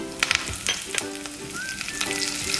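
Urad dal sizzles and crackles in hot oil for a tempering, close and fairly quiet, with a few sharp pops and a spoon clinking as it is stirred.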